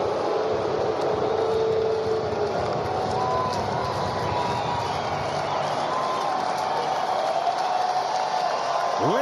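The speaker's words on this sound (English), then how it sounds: "Listen to the crowd in St." A baseball crowd in St. Louis roars steadily at a Milwaukee–St. Louis game, a continuous loud wash of cheering from a packed stadium.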